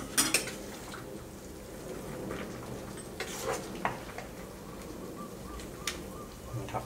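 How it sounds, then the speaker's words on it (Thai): Pork noodle soup broth is ladled into a bowl, with soft pouring, scattered clinks and taps of a ladle against the pot and bowl, close but quiet, with no talk. "เราก็จะตักน้ำก๋วยเตี๋ยวมาใส่นะครับ"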